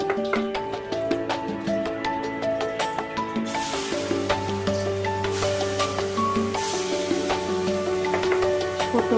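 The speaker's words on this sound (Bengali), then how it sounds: "এটা আমি এবার এক এক করে বড়া ভেজে নিই" Lentil fritters (bara) fry one by one in hot rice bran oil, and the bubbling sizzle grows louder after a few seconds over steady background music.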